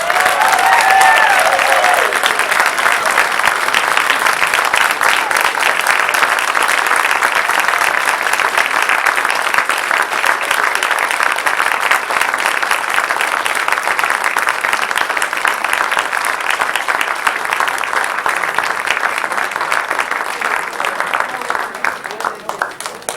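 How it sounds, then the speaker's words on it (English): Audience applause fills a school district recognition ceremony for a student of the year, steady dense clapping that continues for over twenty seconds at an even level before fading slightly at the end. "We give you a round of applause"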